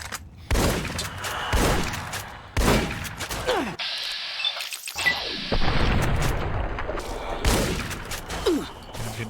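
Hunting shotgun blasts from Fallout: New Vegas Dead Money, several loud booming shots spaced a second or two apart amid other gunfire and game noise, with a voice talking now and then.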